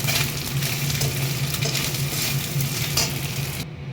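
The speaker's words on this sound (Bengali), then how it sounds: "নুন হলুদ মেখে রাখা মাছগুলো, চলো মাছগুলোকে ভেজে নিই ভালো করে।" Fish pieces coated in salt and turmeric frying in hot oil, a steady loud sizzle with occasional stirring scrapes throughout, cutting off just before the end.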